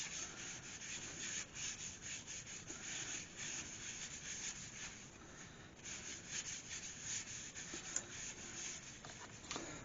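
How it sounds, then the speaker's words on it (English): Wax rubbed by hand onto a crotch beech wood bowl, a soft continuous scratchy rubbing with small rhythmic strokes, close and fairly quiet. "This I'll put the wax on by hand"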